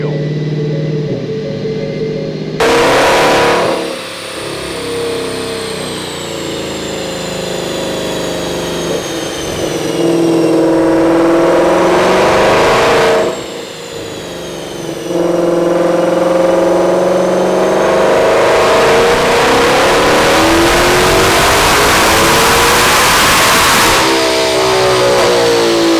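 A 1000-horsepower modified car launches and accelerates hard at full throttle, its engine roaring loud and close through several rising pulls with brief shift breaks between them.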